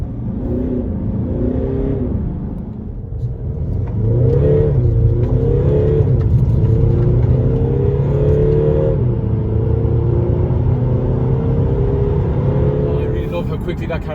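A Mercedes-Benz CLA 220 CDi AMG diesel car accelerates hard from a standstill, its engine note climbing in pitch through each gear, dropping at the shifts and rising again, loud and close throughout the run.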